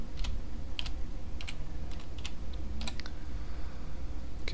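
Typing on a computer keyboard during a Linux install, heard as scattered, irregular clusters of crisp key clicks over a steady low background hum, with no talking.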